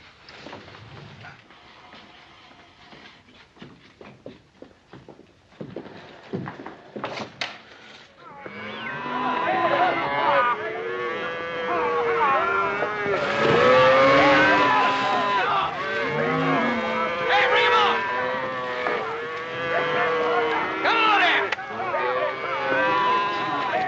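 A herd of cattle on a ranch lowing and mooing, many overlapping calls close and loud after a few seconds of rustling and knocks, continuing steadily to the end.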